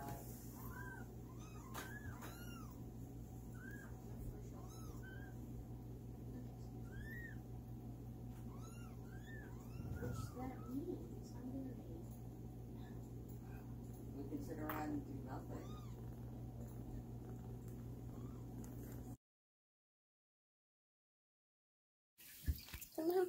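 Nursing kittens meowing repeatedly in short, high cries scattered over a steady hum, close by, with one louder outburst midway before a brief silence near the end.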